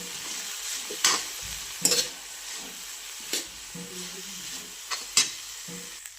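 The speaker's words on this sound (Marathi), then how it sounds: "त्याच्यामध्ये काळा तिखट टाकून घेते यायला व्यवस्थित हलवते आधी" Spices stirred into cluster beans in a hot pan, a low continuous sizzle broken by several sharp, bright scraping strokes of the spoon at irregular intervals.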